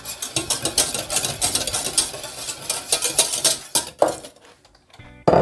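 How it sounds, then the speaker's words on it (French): Instant coffee being whisked into custard cream in a bowl for a cappuccino bûche de Noël; a rapid, fairly loud run of metallic clinks and scrapes that slows and stops, then briefly resumes. "Et je mélange pour qu'il soit parfaitement dissous."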